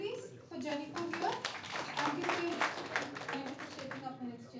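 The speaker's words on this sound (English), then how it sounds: "A round of applause, please, for Jennifer here." A small audience at an ITServe Alliance national event clapping for an honoree, with distinct individual hand claps. Voices and chatter are heard alongside, partly over the clapping.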